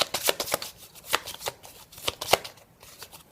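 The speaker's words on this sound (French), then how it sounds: "Je vais mélanger." Tarot cards are shuffled by hand at close range, giving a quick series of crisp riffling snaps and slaps in an uneven rhythm, with quiet gaps between bursts.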